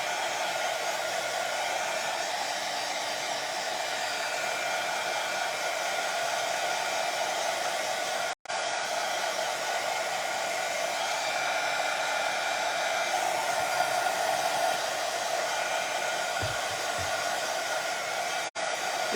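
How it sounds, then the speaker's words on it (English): A hair dryer blows continuously and loudly at close range, drying a coat of Mod Podge on a decoupaged leopard-print pumpkin, with a steady whooshing hum broken only by two momentary dropouts. "It's hard to talk over a dryer"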